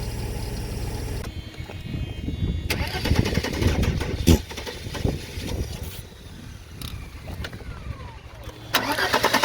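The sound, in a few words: car engine starting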